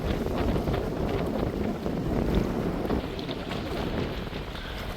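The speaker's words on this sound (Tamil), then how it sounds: "காற்று வந்து இந்த அதிகமாக இருக்குது." Strong wind roars steadily at a Jaffna seashore, buffeting the microphone with a loud, continuous broadband rush that swells slightly but never lets up for the whole stretch, with no voices heard.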